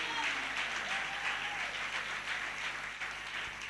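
A church congregation applauds the Lord in steady, dense clapping that fills the room and continues throughout, with a faint voice underneath.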